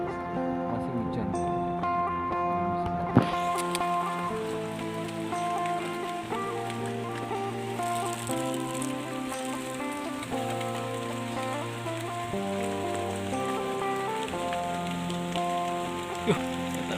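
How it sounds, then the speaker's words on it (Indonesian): Steady rain falls during a fishing outing, a continuous hiss on the surface beneath strong tonal music-like layers and occasional voices, with a couple of brief sharper knocks. "Masih hujan."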